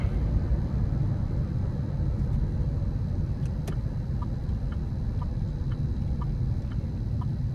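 A 2005 GMC Canyon with a five-cylinder engine drives along, a steady low rumble of engine and road noise heard from inside the cab, with a few faint ticks and clicks over it.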